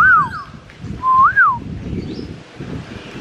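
A bird in Thailand gives clear, loud, whistled calls: two swooping, looping notes close by, with a fainter answering note later, over windy outdoor background rumble.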